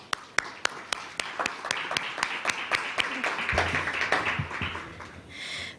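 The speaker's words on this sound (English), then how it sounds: "Can we give her a round of applause?" At a Women in Leadership event, the audience gives a speaker a round of applause: sharp, evenly spaced close claps at first, then a broader wash of clapping with a few voices, tapering off near the end.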